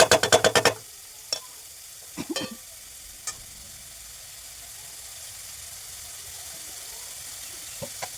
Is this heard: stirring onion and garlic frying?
yes